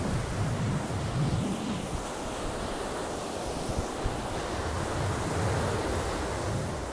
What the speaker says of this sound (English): ocean spray coming at you all the time